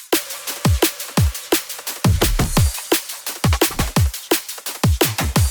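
A melodic drum and bass track made in FL Studio drives hard with rapid punchy kicks and snares, deep sliding bass hits and added drum fills, dense and loud with no voices.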